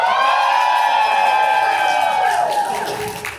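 A convention panel audience at Anime North cheering for the villain in a Fire Emblem duel, a loud sustained roar of crowd cheering and whoops that fades slightly at the end.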